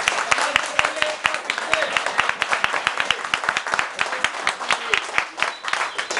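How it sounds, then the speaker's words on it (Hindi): Scattered clapping in a small training-class group of students, hands striking in a brisk, uneven rhythm for the whole stretch, fairly close, with some talk mixed in. "जोरदार ताली बजाइए, क्लैप बजाइए।"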